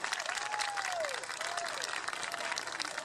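A library inauguration audience gives a round of applause, heard as a soft, distant, steady wash of clapping with a faint whistle-like tone drifting over it.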